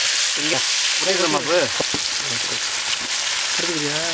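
Tomatoes go into onions frying in hot oil, a bright loud sizzle running throughout while someone talks over it, close by.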